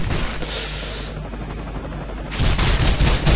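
Bursts of rapid gunfire crackle through a busy soundscape in the video game The Matrix: Path of Neo, growing louder and denser toward the end.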